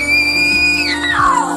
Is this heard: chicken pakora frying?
no